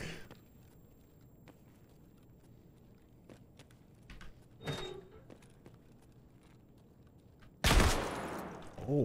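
A PKM machine gun fires in a video game, heard as faint scattered shots against quiet ambience, then one loud, dense burst near the end.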